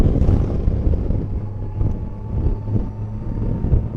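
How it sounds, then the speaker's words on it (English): Gusts of wind buffet an outdoor microphone with a heavy, rumbling roar that swells and eases in uneven surges, loud and continuous throughout with no voices. "it's a little bit windy here today as well. Beautiful day, but getting a few gusts of wind."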